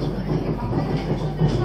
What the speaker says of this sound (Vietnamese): Tàu đang chạy mọi người.